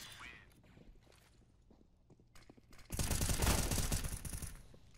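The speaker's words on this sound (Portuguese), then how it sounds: "olha o Cooper, cara. Tiros perfeitos dele aí." In Counter-Strike: Global Offensive, after quiet scattered clicks and taps, a loud burst of rapid automatic gunfire erupts and rattles on for about two seconds before fading.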